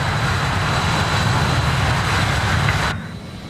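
Avro RJ70 airliner engines roaring steadily during a climb in Microsoft Flight Simulator 2020, a loud continuous broadband drone that drops off sharply near the end.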